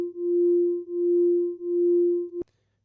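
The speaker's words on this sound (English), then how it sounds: "here I basically just have a sine wave pulled up" A detuned sine wave from the Vital synth hums steadily with slow, regular volume pulses about three times, then cuts off abruptly; clean and alone.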